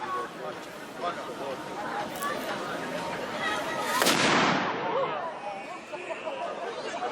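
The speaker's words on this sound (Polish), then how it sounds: "armaty bardzo mobilne, w owym czasie 3 funtowe" A single heavy blast from a historical 3-pounder cannon booms out midway at an outdoor historical picnic, its roar decaying slowly, with crowd chatter and murmuring throughout.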